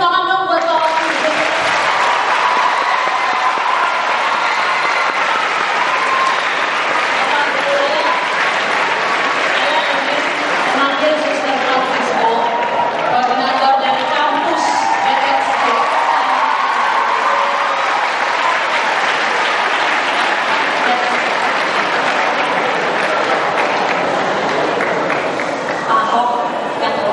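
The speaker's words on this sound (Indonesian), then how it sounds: "kita tepuk tangan dong buat Bapak Ibu" Sustained audience applause at a gathering in Sanur BSD, a loud, steady roar of many hands clapping that holds at an even level for almost half a minute without letup.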